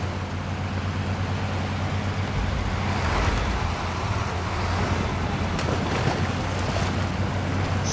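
Heavy truck engine in SnowRunner, a steady low drone that stays loud throughout, with a brief dip and rise partway through as it shifts gears in automatic, plus a faint hint of wind noise.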